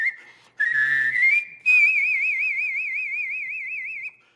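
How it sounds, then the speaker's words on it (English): A man whistles Amazing Grace in an organ-emulation style, combining a whistle with a hummed, nasal resonance so two tones sound together; a clear, close sustained melody with a wavering vibrato on the final long note. "whistles Amazing Grace with his organ emulation style"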